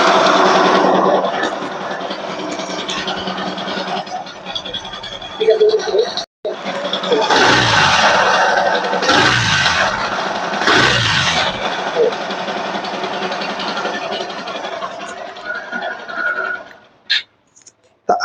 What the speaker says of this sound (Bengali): বাইকটির ইঞ্জিন থেকে ঘটঘট করে শব্দ হচ্ছে